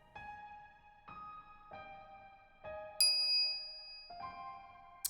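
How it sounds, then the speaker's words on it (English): A microwave oven chimes in a series of clear electronic dings, about five evenly spaced tones, with a brighter, higher ding near the end, close and fairly quiet with no talking. "I'm greeted by the chiming of a microwave oven"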